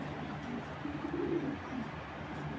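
Soft, low racing pigeon coos repeat a few times close by over a quiet room hum, with no talking.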